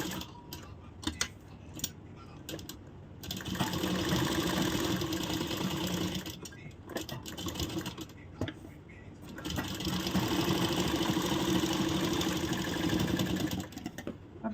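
A sewing machine stitching a blouse, with two long runs of rapid, steady mechanical whirring and clatter separated by pauses filled with quieter handling clicks and short bursts.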